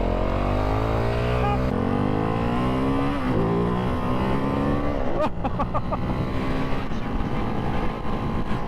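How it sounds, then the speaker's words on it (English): Ducati Hypermotard 698 Mono or KTM 690 SMCR supermoto being ridden hard, single-cylinder engine rising in pitch through gears, then a sharp throttle crack lifting the front, loud and close under wind noise. "I've just cracked the throttle open and I've just got the front lift a little bit"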